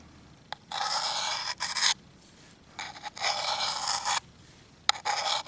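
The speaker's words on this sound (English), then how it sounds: "the tricky part of using this is you have to get the correct angle as you're going down to sharpen the blade" A knife blade is drawn repeatedly across a sharpener in long, loud rasping strokes, several passes in an uneven rhythm with short silent gaps between them, and no voice.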